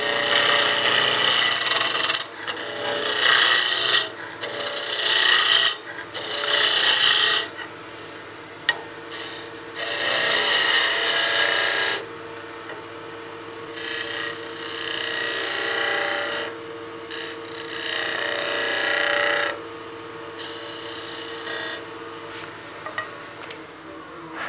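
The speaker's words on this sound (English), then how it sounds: "you can see how effective the skew is when you're doing spindle work like this" Skew chisel cutting a wooden spindle on a lathe while turning a birdhouse ornament, a close, loud rasping hiss in repeated passes with brief gaps, then a quieter steady hum of the spinning lathe.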